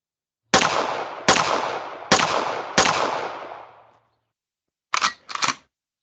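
Gun sound effects in a Unity VR game, four loud, sharp bursts spaced about a second apart with long decaying tails, followed after a pause by two short mechanical clacks.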